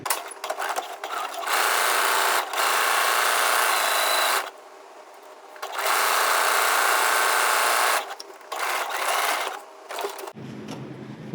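Sewing machine stitching a regular seam on a summery caftan, loud whirring runs of several seconds each broken by short pauses, close and alone.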